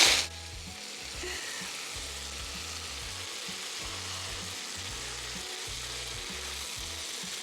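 Sausage meat stuffing for a keto Christmas dish browns in a pan with a steady, close, even sizzle. A low rhythmic rumble runs underneath and no one speaks.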